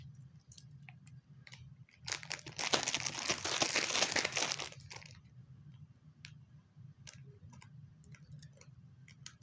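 Plastic wrapper of a Bakugan mystery pack crinkling loudly as it is torn open, a dense burst of rustling lasting about two seconds, framed by softer scattered crinkles and handling ticks before and after, with no talking.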